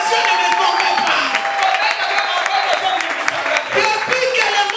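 A church congregation applauds and cries out in acclaim, a dense wash of clapping mixed with overlapping shouting voices throughout, loud and sustained.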